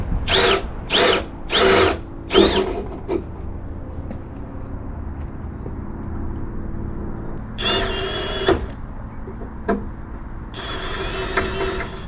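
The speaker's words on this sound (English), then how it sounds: "We're gonna switch to the bigger drill part. Bigger drill bit." A power drill with a bigger bit whirs in several short bursts, then runs in two longer high-pitched stretches while drilling for a Honda Civic Si wing, close up with quiet gaps between.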